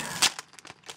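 A plastic bag of Lego parts is opened with a sharp crinkle up front, then several quieter crackles and rustles in quick succession, close by.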